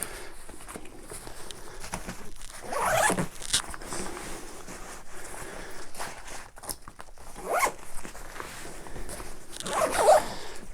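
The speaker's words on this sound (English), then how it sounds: "And again, these are really good zips." A packing cube for a cabin-sized backpack being zipped, with three separate quick rasping zipper pulls spaced a few seconds apart, close and fairly loud, and no talk.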